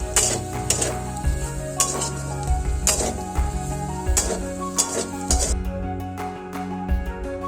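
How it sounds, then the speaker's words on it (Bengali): Potatoes fry in oil in a kadai and are stirred. A continuous sizzle runs underneath while a utensil scrapes and knocks against the pan in repeated sharp strikes, close and clear. "আলুগুলো বেশ ভালোই ভাজা হয়ে গেছে, তাই আরেকবার একটু নাড়িয়ে চাড়িয়ে নিয়ে আলুগুলোকে একটা পাত্রে এখন তুলে রাখবো।"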